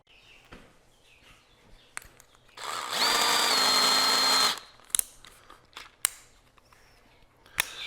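LC20 mill drilling small holes in a thin sheet, a short steady whine of the spindle and bit lasting about two seconds, loud and close, surrounded by scattered clicks and taps in a quiet workshop.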